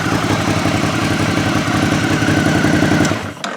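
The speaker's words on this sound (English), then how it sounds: "Has a nice exhaust note. It's not raspy. It's smooth." A 2017-or-later Suzuki DL650 motorcycle with an aftermarket Arrow header burbles at idle, a smooth, even, pulsing rumble heard up close before it cuts off at the end.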